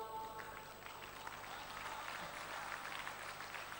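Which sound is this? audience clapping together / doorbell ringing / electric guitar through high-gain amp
audience clapping together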